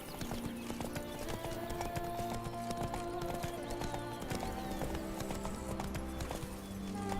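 Horse hooves clip-clop at a steady gallop in The Witcher 3, loud and close with a continuous rhythmic beat, a brief whinny, and background game music and ambience running throughout.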